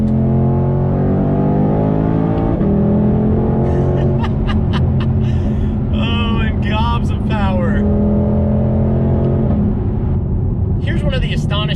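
A 2020 Ford Shelby GT500 with a 760 hp engine and dual-clutch automatic revs hard, the pitch sweeping up and then dropping through several quick downshifts with throttle blips, loud and close throughout.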